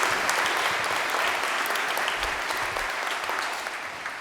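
An audience at a Christmas mass applauds steadily, a dense, even clatter of many hands that gradually tapers off toward the end.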